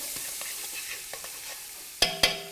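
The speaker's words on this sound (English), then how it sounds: "we've got some cut bacon in our hot stock pan" Cut bacon frying in a hot stock pan gives a soft, steady sizzle with faint crackles, then two sharp louder clanks of a utensil against the pot near the end; no talking.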